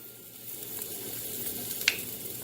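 Steak hitting a hot pan and sizzling, a steady hissing fry with a small crackle pop near the end, close and fairly quiet, no talking.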